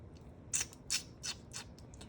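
Scissors cut a paper journal tag in a crafting setting, four short crisp snips at a steady pace, close and quiet over faint room noise.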